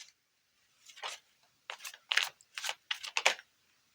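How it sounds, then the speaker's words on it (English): Tarot cards shuffled close up in a handful of short, crisp bursts of rustling and snapping, separated by near-silent gaps, with no talking. "So I'm just going to give them a good shuffle."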